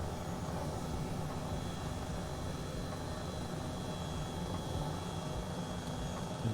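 Helicopter flying over Tokyo in Microsoft Flight Simulator, a steady dense rotor and engine roar held at an even level throughout, with no talk over it.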